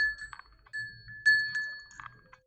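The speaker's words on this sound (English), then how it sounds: "Maybe I'll just ring my bell." A small bell rings in several short bursts with brief pauses between them, clear and close against a quiet background.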